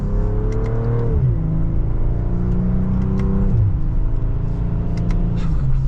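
BMW M340i pulling in second gear in sport mode under mild throttle, a steady rich engine drone rising in pitch, dropping briefly at a shift near one second and again past three seconds, loud and continuous inside the cabin.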